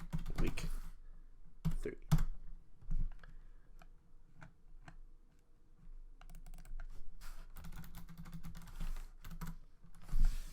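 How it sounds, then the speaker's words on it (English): Fingers type on a computer keyboard in irregular bursts of clicking keys, with pauses between runs, while a person speaks briefly over it. "let me type up the scores again"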